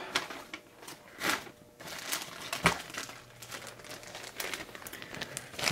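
A large plastic bag holding a lower receiver build kit crinkles and rustles close up, with continuous handling noise rising and falling and a few sharper crackles, no talking.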